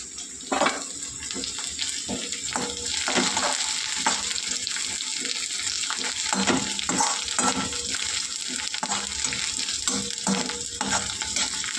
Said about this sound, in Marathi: चांगला कांदा झाला आहे, चांगलं तळू द्यायचं कांदा मिरच्यांना लागेल